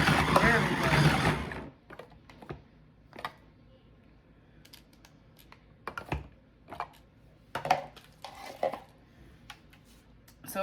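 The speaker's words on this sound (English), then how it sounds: "So it chops up your cheese nice. It'll shred it." A battery-powered kitchen chopper shredding cheese for pizza gives a short, loud whirring burst, followed by scattered clicks and taps as a person keeps talking.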